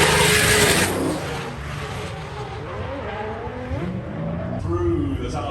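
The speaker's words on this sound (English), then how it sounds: "Through the tunnel smoke comes the BMW, right?" A BMW drift car at the Goodwood Members Meeting pushes through tire smoke with a sustained engine roar and tire squeal, loud and close, with commentators talking over it.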